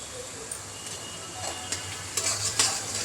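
Tomatoes added to browned onions in oil, frying with a soft steady sizzle and a few sharp clinks and scrapes of a spoon stirring the pan toward the end.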